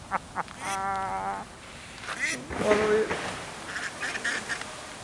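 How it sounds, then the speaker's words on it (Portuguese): A duck on a bridge over the Liz River in a Leiria park gives a couple of bursts of nasal, honking quacks close by, with people talking around it outdoors. "Olha um pato!"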